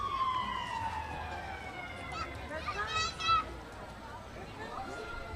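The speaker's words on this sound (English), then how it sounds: "You can start to hear the sirens as they head this direction." Parade vehicles approaching a fair route, their sirens wailing in rising and falling sweeps at moderate distance over crowd murmur and voices, with a brief louder cluster of sounds midway.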